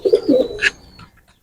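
A Kamagar pigeon gives a short, soft coo, a low throaty burble that fades quickly into quiet, close by.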